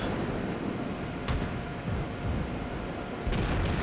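Battleship naval gun salvos from a video game boom as deep rumbling blasts with a dense low roar. A couple of sharp reports stand out above a continuous loud background.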